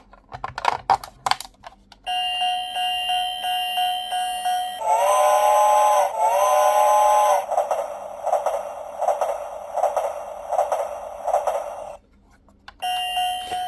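A bright electronic train whistle and chiming tune from a Tomy toy train plays in a loop, with clicks at the start and end.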